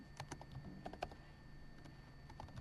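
Fingers tap on a computer keyboard in quick, irregular keystrokes, quiet and close, with no voice over them.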